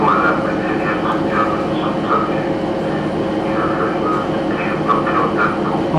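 A train rumbles and idles at a Cornish railway station in pouring rain, with a dense steady roar of engine and rain, murmuring voices and occasional higher tonal bursts layered over it.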